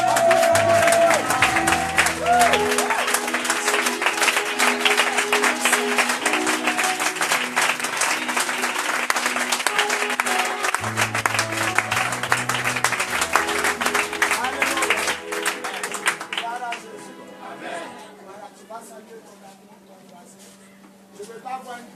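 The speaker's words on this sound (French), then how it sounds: "j'aimerais qu'on acclame le Seigneur Jésus pour papa" A church congregation claps and cheers together during a service, a dense burst of applause over a sustained organ or keyboard chord, fading out toward the end.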